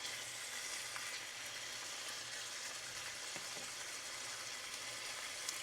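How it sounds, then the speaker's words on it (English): Chicken frying in a pan for a citrus dish, a steady, close, moderately quiet sizzle running throughout with faint scattered crackles and no voices. "we're only supposed to cook this until it's no longer pink, turning it over once"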